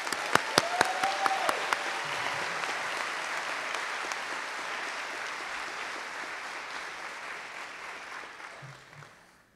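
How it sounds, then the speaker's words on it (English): At a 2022 university honors convocation, an auditorium audience applauds scholars. A few sharp, separate claps open into steady, even applause that slowly fades toward the end. "Let's give them all a round of applause."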